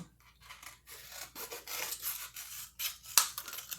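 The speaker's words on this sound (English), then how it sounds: "I'm just going to trim up my end here to make it less jaggedy." Scissors trim the jagged ends of a hard, flexible plastic water bottle to make a moss pole, giving close, repeated snipping and rubbing crunches with a sharp snap near the end.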